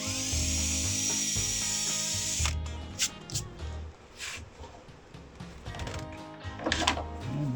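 A power drill whirs loudly into plywood for a couple of seconds while building a boat cabin roof, then stops, followed by scattered knocks and scraping of wood and tools nearby.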